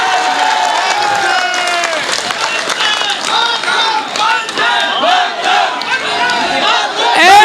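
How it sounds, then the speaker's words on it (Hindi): A large crowd honouring the Delhi Police at a public gathering, loud continuous cheering and shouting with applause mixed in, voices rising and falling throughout. "एक बार दिल्ली पुलिस के सम्मान में तालियां उठे आपकी।"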